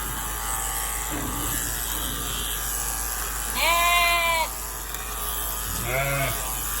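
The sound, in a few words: electric shears shearing sheep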